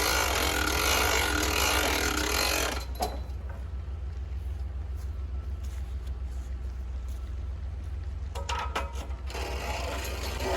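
A vertical height adjustment ratchet on a portable sawmill clicks upward in small steps, giving faint, sparse mechanical clicks over a steady low hum after a loud opening noise.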